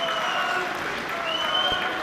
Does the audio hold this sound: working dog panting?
no